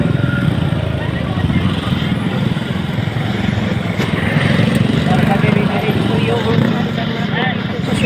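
Motorcycles crowded in congested city traffic: a continuous, loud engine drone and rumble from several nearby bikes, with a voice talking over it.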